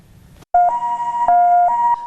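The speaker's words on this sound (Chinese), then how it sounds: "救护车到现场了" An ambulance siren at a road crash scene in Yilan, sounding as a loud two-tone wail that alternates between pitches in a steady, close cycle with no talk over it.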